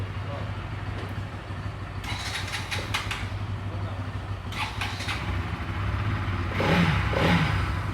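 A used 160 cc motorcycle engine idles and then revs up louder near the end, while people talk in bursts over the running engine, in Batticaloa, Sri Lanka.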